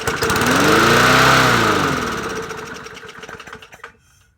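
A 20-inch Yard Machines push mower engine runs loud and steady close by, then slows and dies away in its last second, with rattling and knocking as it winds down.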